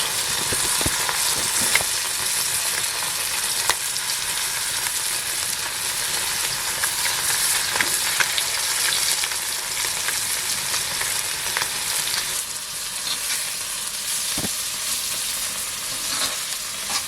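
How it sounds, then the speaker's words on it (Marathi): Chadani fish frying in a pan over a wood-fired stove in Kokan, giving a steady, close, continuous sizzle with small crackles throughout, no voices. "हे मासे पटापट फ्राय होतात"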